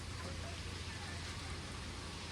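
Steady rain falling in the morning at a Diu stay, a dense even hiss of water with no breaks, heard close and alone without voices.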